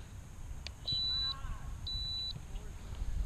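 Two steady high electronic beeps from an RC flight timer at an E-flite Apprentice S 15e model airplane flying field, each lasting about half a second, separated by a pause, heard outdoors over wind and low background noise.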